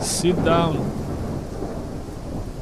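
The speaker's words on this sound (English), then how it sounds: "I like the storm, it sounds like those old theme park rides" A thunderstorm in a modded Gothic Remaster game rumbles low and continuous with rain hissing over it, steady and moderately loud, as someone briefly speaks at the start.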